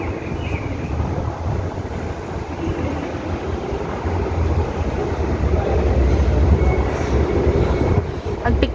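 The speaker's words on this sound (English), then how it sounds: "Ayun, paalis yung train." A train rumbles steadily nearby, its low roar building gradually as it pulls away, with wind buffeting the microphone.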